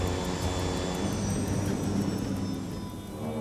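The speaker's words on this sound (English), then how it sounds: "The captain pulls the thrust levers back to reduce power." An airliner's jet engines roar steadily on approach as thrust is reduced, a broad, fairly faint rushing hum that eases slightly toward the end.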